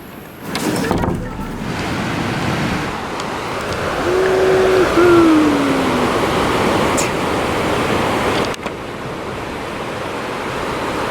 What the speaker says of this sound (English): These are the biggest waves I've seen on this beach the whole time we've been here.